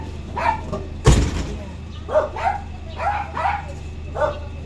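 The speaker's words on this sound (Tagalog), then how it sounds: "Alam mga aso, ang dami. Ang dami aso." Many dogs bark outside a church in the morning, a series of separate barks and yips at moderate distance, with one loud bang or door knock partway through.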